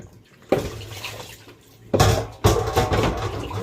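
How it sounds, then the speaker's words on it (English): Plates being rinsed under running water in a Jamaican home kitchen, with a splashing stream that starts suddenly and surges again in two later bursts, close and fairly loud, with no talking. "Rinse out these plates right here."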